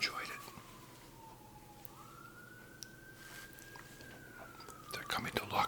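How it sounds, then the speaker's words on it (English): A distant emergency vehicle siren drifts faintly in a long, slowly rising and falling wail, heard under soft whispering in a quiet room. "And now I hear a siren."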